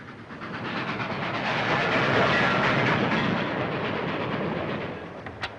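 A train runs steadily on its rails, a loud continuous rumble and hiss with a faint clickety-clack rhythm that swells in the middle and eases near the end, with no voices.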